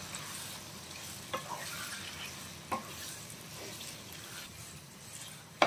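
Tomato prawn curry stirred in a sizzling pan, a continuous close sizzle with a few sharp clinks of the spoon against the pan.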